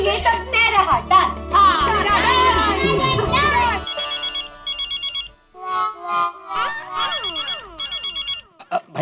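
A mobile phone rings from inside a pocket, a bright repeating electronic ringtone of beeping melodic phrases with short gaps, following a stretch of lively voices and music.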